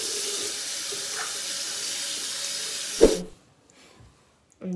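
A shower runs with a steady, close hissing spray that cuts off abruptly partway through, leaving near silence before a faint hiss returns at the end.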